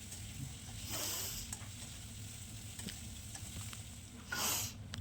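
Potatoes and papaya frying in a pan with turmeric for a meat curry, a steady low sizzle under occasional stirring scrapes, with two louder bursts of sizzle, heard close and without talk.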